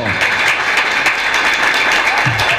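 An audience at a public meeting breaks into steady, dense applause, loud and continuous across the whole stretch, with a voice faintly audible underneath.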